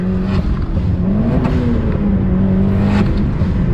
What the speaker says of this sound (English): my car is hitting boost cut